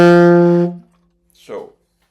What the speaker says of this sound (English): what I call the Bach triad is what sounds like this.